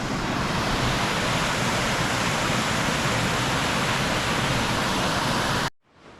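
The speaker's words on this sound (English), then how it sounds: "Oh, just look at that waterfall." A waterfall in a gorge outside Middleton-in-Teesdale, County Durham, a loud, steady broadband roar of falling water that runs unbroken until an abrupt cut near the end.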